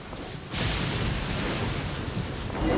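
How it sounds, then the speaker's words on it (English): Thunder and rain from a lightning storm in the video game Genshin Impact: a sudden loud rumbling roar builds with a steady heavy rain wash, staying strong and close throughout. "Uh-oh! Lightning storm!"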